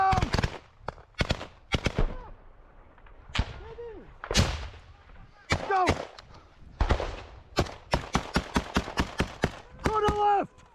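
Bursts of machine gun fire in combat footage of a fight near Russian positions, loud sharp cracks in rapid strings and single shots echoing, with shouted voices in between.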